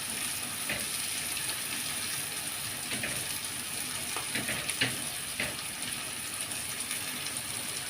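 Sliced peppers and onions frying together in a pan for restaurant-style shawarma, a continuous loud hiss of hot oil with occasional light stirring clicks close by.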